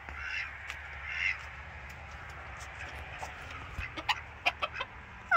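A chicken clucks in short, quiet bursts, a few soft calls early on and then a quick string of sharper clucks near the end over a faint steady background hum.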